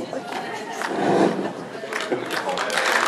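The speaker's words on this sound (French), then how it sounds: "Je vous demande d'applaudir très très fort." A cinema audience at a French film premiere claps loudly and steadily throughout, the applause swelling in the middle, with some crowd noise and voices mixed in.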